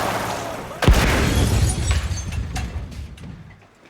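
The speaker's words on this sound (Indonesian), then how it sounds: "belum sampai pergi jauh, mobil yang dikendarai GB meledak" A car blows up in a crime film, a sudden loud boom that bursts in near the start and is followed by rumbling, crackling debris and a fading roar.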